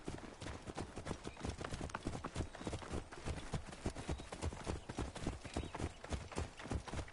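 Horse hooves clip-clopping in Assassin's Creed, a rapid continuous galloping rhythm of dense hoof beats, steady and fairly faint throughout.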